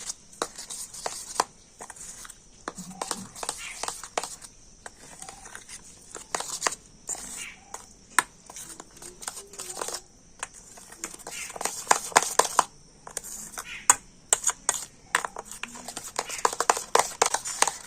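A spoon scrapes and taps through a thick mango pulp and cornflour mixture in a bowl, with irregular close clicks and scraping strokes that grow busier toward the end.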